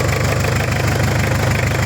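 A steady, low Mitsubishi L200 Cyclone pickup engine idle rumbles without a break, with a faint rhythmic knocking running through it and no voices.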